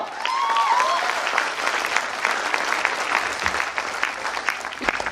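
A crowd gives loud, sustained applause for India's President Droupadi Murmu, a dense steady clapping that holds for several seconds, with a brief tonal whistle-like sweep near the start.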